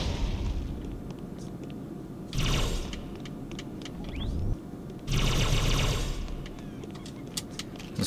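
Brute plasma rifle fire in Halo 2, a rapid mechanical rattling buzz of game weapon shots running throughout, with two louder, denser bursts midway.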